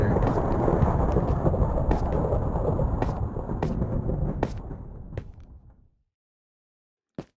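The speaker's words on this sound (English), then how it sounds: "Listen to that thunder." A thunderstorm in Minecraft VR rolls with loud, sustained thunder and rain-like noise for about six seconds, then fades out, followed by a sharp thump near the end.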